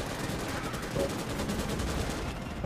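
Gunfire from a weapon in the Starship Troopers video game, a rapid run of sharp shots in quick succession, dense and steady across the moment.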